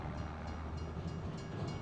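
A train in the Farming Simulator 25 video game rumbles past a crossing with a steady, low, continuous roar, fairly quiet and unbroken throughout.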